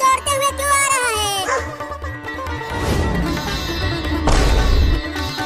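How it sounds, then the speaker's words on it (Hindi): A dog barks in short repeated yips over loud background music, the barks clustered near the start. "वो कुत्ता मेरी तरफ दौड़ते हुए क्यों आ रहा है?"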